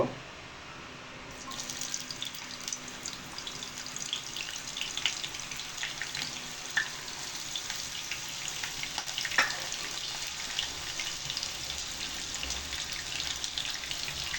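Onions sizzling in hot oil in a pan, cooked for a pangas fish dish: a steady hiss and crackle starts after a brief clatter and holds evenly throughout, close by, with no voices.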